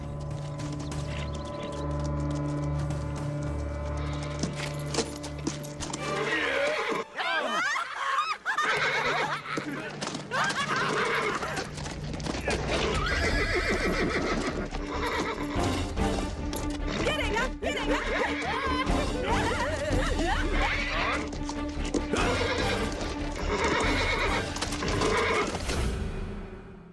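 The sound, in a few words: horse neighing and galloping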